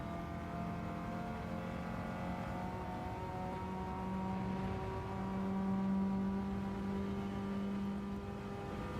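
A Nissan street car in a racing showdown gives a steady, droning engine note with a rising whine in the middle, heard from a distance in a continuous run with no speech.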